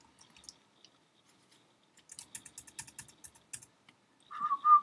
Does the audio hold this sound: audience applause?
no